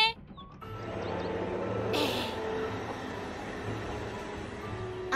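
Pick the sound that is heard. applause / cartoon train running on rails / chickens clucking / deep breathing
cartoon train running on rails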